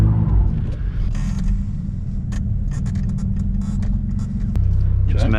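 A Ford Falcon's engine rumbles steadily and close up as the car slides with oversteer, with brief rushing bursts over the continuous low drone and a slight shift in engine tone near the end.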